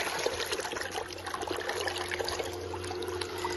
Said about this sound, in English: We will place this pump underwater